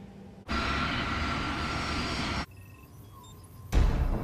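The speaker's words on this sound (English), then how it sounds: "As the aircraft approach the runway" Crossair aircraft approaching the runway at Zurich Airport at night, a steady engine roar lasting about two seconds, then a quieter stretch with faint tones before a short loud burst.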